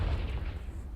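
A Confringo blasting spell from the video game Hogwarts Legacy lands as a single deep, muffled boom that rumbles briefly and fades.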